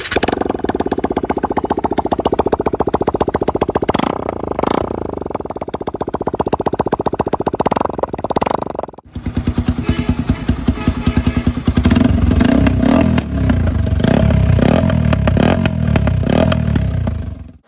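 A loud TVS Apache 4V motorcycle engine runs raw with its exhaust removed, unmuffled, with rapid harsh popping firing pulses, a brief cut near the middle, then rougher revving.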